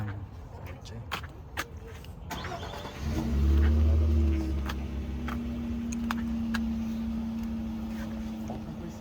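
A newly delivered 2025 all-wheel-drive car starts up with a rising engine surge, then settles into a steady running hum; clicks and handling noises come before it.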